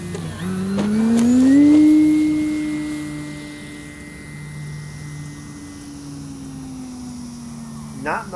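An E-flite Pilatus PC-21 RC model airplane lands on rough grass at a flying field, its electric motor whining loudly, rising, then slowly winding down into a long steady drone before a brief clatter at the end.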